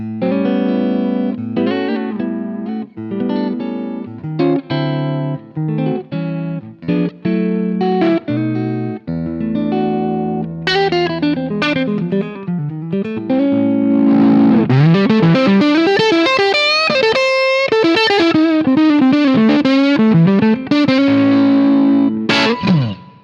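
Strandberg Boden Essential electric guitar on the neck pickup, warm picked chords and notes giving way to a driven, singing lead with bends and vibrato.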